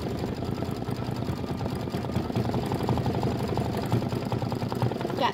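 A computerized embroidery machine stitches star details onto a Kimberbell nativity bench pillow, its needle running in a steady, fast mechanical rhythm throughout, close and continuous with no pauses.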